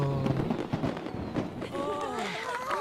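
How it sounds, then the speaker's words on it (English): Fireworks burst in Genshin Impact with a flurry of pops and crackles and rising whistling streaks, close and lively. Voices murmur in the background. "Look at the fireworks."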